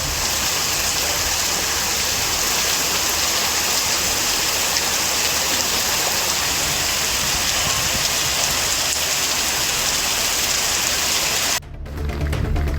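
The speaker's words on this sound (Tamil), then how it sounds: "பொறையார், திருக்கடையூர், ஆக்கூர், சக்கரன்பந்தல், தில்லையாடி, செம்பனார் கோவில் உள்ளிட்ட இடங்களில் பெய்த மழையால் குளிர்ச்சியான சூழல் நிலவியது." Moderate rain falling steadily in Tamil Nadu, a dense, even hiss of drops on surfaces that continues unchanged before cutting off abruptly near the end.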